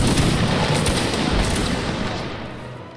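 Musket volley in the Napoleonic Wars video game, a dense rolling crackle of many shots fired together that fills the whole moment loudly, then starts to fade, with no talk over it.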